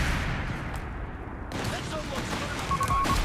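Mortar fire and other battle gunfire from a competitive video game match, dull thumps and crackling shots packed close together with a short lull, while a voice talks quietly underneath.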